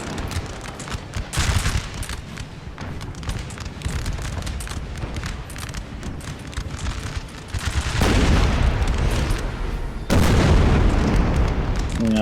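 Musket volleys and cannon fire in the Napoleon: Total War battle game, with crackling rifle fire over deep booming blasts and two louder, heavier surges of fire near the end.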